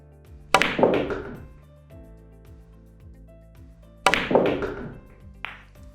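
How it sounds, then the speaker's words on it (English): Two sharp, hollow knocks from a pool cue ball struck hard into the 9-ball on a table, each a close impact with a short rattling tail, spaced a few seconds apart with quiet between and no talk. "I'm going to show you the same shot,"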